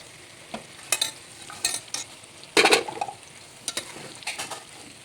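Chicken pieces dropped into masala for biryani, frying with intermittent sizzles and scraping stirs against the pot, several loud bursts separated by quieter gaps.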